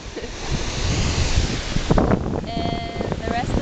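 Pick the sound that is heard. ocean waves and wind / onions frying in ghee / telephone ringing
ocean waves and wind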